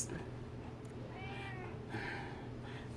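A sixteen-year-old pet cat gives two or three drawn-out, fairly soft meows close by, with a low household hum underneath and no talking.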